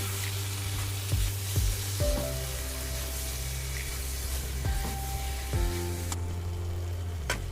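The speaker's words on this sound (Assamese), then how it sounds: "এতিয়া মই দিছোঁ বইল কৰি থোৱা ৰাজমাখিনি" Boiled rajma goes into hot masala oil in a pan, giving a continuous close sizzle with a few sharp clinks and stirring knocks on the pan, and a low hum running underneath.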